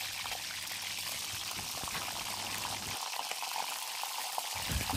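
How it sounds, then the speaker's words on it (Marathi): Chopped bell peppers sizzle and crackle steadily in hot oil in a pan, a continuous frying hiss with faint pops throughout, no voices. "त्या तेलात आता मिरच्या परतून घ्यायच्या आहेत। आता सर्व मिरच्या याच्यात टाकून घेऊया।"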